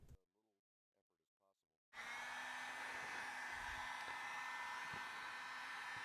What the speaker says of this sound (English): Now I'm going to heat up the rim so I can seat the bearing with as little effort as possible.